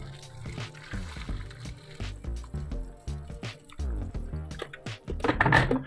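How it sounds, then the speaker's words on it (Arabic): Hot water poured onto spicy Korean instant noodles, a wet squishing, dripping pour with liquid sloshing, close and fairly loud, swelling toward the end. "تعالوا نحط بقى الميه السخنه ونغطيها"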